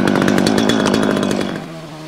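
A small chainsaw cutting wood slabs at a sawmill, its engine roaring loud and close with a fast buzzing rattle for over a second before revving down as the cut ends.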